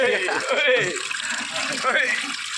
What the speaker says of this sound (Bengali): এই জলটা আমার গায়ে দিতে দাও তুমি আমার গায়ে একটু জলটা ঢেলে দাও